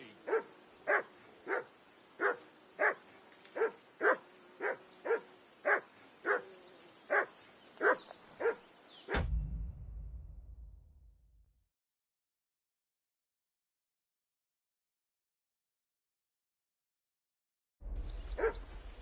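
A dog barks steadily in Kingdom Come Deliverance 2, about a dozen evenly spaced woofs over a murmuring background before the sound cuts off into silence and then returns.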